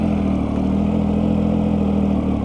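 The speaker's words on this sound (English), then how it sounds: "That triple engine is just beautiful." A Triumph Tiger 800 XRx Low three-cylinder motorcycle engine idles steadily up close, a loud, even, throbbing rumble with no voices.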